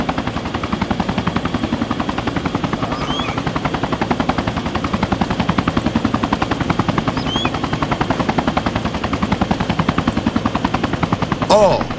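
A helicopter in the military shooter ArmA 2 thuds with loud, steady rotor beats that run unbroken for the whole stretch, with a short, sharper burst near the end.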